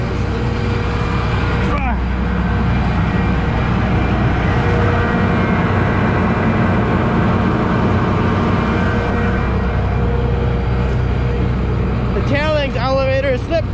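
A combine harvesting soybeans runs with a loud, continuous machinery drone as its elevator slip clutch begins slipping, with a burst of rapid ratcheting clatter near the end.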